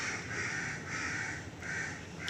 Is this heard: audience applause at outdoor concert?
no